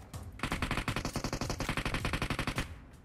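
Rapid automatic fire from a UMP submachine gun in a shooter video game, a steady stream of dozens of close, loud shots lasting nearly three seconds.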